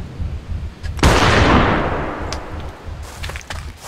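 A rifle shot in a prehistoric dinosaur hunting game, one loud close blast with a long rumbling tail that fades slowly, followed by fainter clicks and rustles, no voices.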